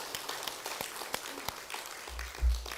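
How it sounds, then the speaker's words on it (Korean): A church congregation at a sermon claps in scattered, fairly sparse bursts, individual hand claps standing out over a soft room murmur, with a low thump near the end. "이럴 때는 박수 한번 쳐야 해요."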